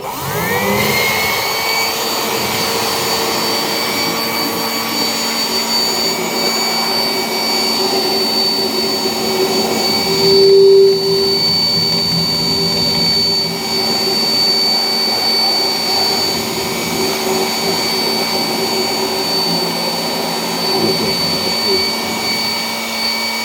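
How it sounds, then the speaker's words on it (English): An industrial blower machine runs with a loud, steady roaring whoosh and a high whine that holds through the whole stretch, with faint talking underneath. "here I have a blower machine. You may be knowing it's called industrial blower"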